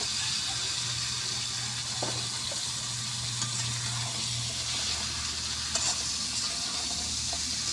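Taro and eggplant frying with spices in oil in a pan, a steady sizzle with stirring scrapes and a low hum, no talk.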